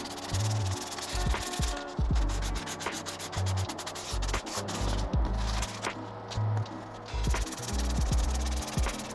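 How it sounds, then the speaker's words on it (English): Rough, rhythmic rubbing of sandpaper on a metal PC cooler part, in repeated strokes of varying length and fairly close up. "I'm going to start by sanding it up so the paint actually has something to stick to"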